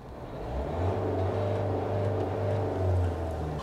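A 2023 Mahindra Thar RWD diesel engine drones from inside the cabin, a low steady hum that swells gently while cruising, with no talk over it.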